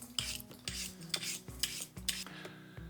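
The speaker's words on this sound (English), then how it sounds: "Then we're just going to peel them." Starchy potatoes being peeled for chunky triple cooked chips, a steady series of five or six rasping scraping strokes in an even rhythm, close and alone without talk.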